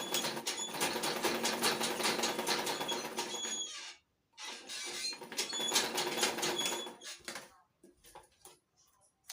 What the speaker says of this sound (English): place it on your machine and sew half.